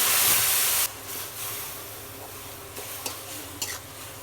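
Onion, garlic and green chilies hit hot oil in a wok with a loud initial sizzle, then settle into a steady frying hiss with a few sharp crackles and spatters near the end.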